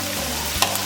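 Shallots, sliced onion and green chillies sauté in hot oil for a Kozhikode-style prawn roast, giving a dense, continuous close sizzle with a brief spatula scrape partway through and no voices.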